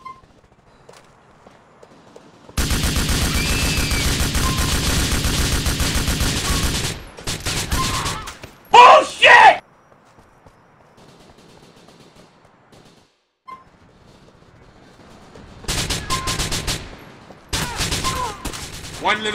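Gunfire during a GTA The Lost and Damned deathmatch comes in several loud bursts separated by near-silent gaps, with one sustained rattling stretch and shorter clusters of shots, mixed with other game noise.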